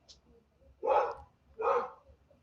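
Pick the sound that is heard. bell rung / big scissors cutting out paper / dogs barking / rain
dogs barking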